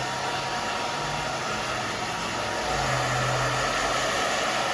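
A hair dryer blowing steadily up close while styling a pixie undercut, a loud continuous airy roar with a low hum that shifts slightly in pitch as it moves, with no voices.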